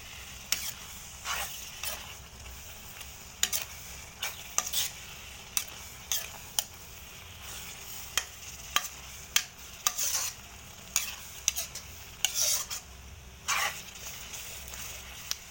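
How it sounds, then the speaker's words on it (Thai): A spatula scrapes and stirs curry paste frying in a pan for Lao khao poon broth, with irregular sharp scraping strokes over a soft steady sizzle, close and fairly loud, no talking. "คั่วไปเรื่อยๆเนาะจนว่ามันสิแหม"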